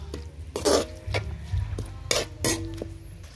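Clams are stirred in a cooking pot, with several distinct metallic scrapes and clinks of a utensil against the pot spaced irregularly over a few seconds, fairly close.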